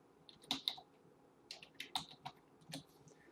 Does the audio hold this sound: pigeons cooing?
no